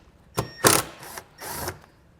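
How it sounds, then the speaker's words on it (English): A power driver with a T25 Torx bit backs out vehicle screws while a hidden hitch receiver is installed, giving several short whirring mechanical bursts close up with quiet gaps between. "These screws we're going to remove. We'll use a T25 Torx bit."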